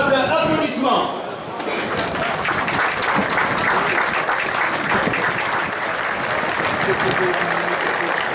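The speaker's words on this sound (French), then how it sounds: "Je vous demande un formidable applaudissement." Crowd at a Royal Football Club liégeois football match applauds in tribute to a deceased club figure, sustained steady clapping after a brief announcer's voice at the start.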